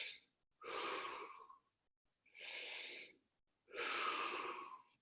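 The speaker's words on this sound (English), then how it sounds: "I want you to start taking deep breaths in and out through your mouth." Deep breaths drawn in and pushed out through the mouth, three long airy rushes separated by short silences, close and steady, with no talking.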